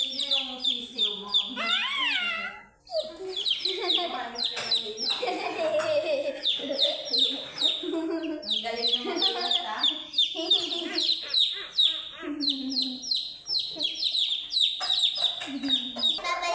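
A chick chirping, repeated high peeps and tweets in quick runs close by, mixed with other bird clucks while people talk over it.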